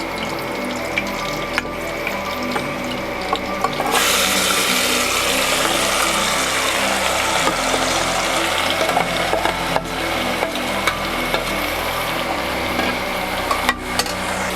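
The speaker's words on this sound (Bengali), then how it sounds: "মাংসটা আমি এবার কুকারের মধ্যে ঢেলে দিচ্ছি।" Young goat mutton poured into a pressure cooker of hot oil with bay leaf, dried chillies and cinnamon: after a quiet start the sizzle suddenly swells into a loud, continuous hiss, dotted with stirring clicks.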